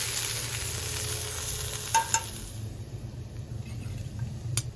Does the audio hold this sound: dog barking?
no